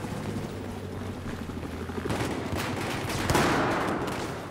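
Enemy machine gun fire in Battlefield 4, heard as dense, continuous rattling fire mixed with rumbling battlefield noise that swells louder toward the end.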